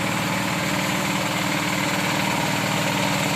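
A tractor engine drones steadily while plowing a rice paddy, a loud, continuous rumble with no pauses and no voices.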